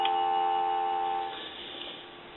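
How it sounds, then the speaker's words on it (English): A steady telephone dial tone from a converted wooden wall crank telephone hums alone, continuous and fairly quiet, fading slightly partway through. "Give you some dial tone."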